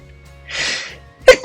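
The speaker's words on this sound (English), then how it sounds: "I'm going to sneeze." A single sneeze from a woman giving a tarot card reading: a breathy inhale swelling up, then a sharp, loud burst close to the microphone, with no talk over it.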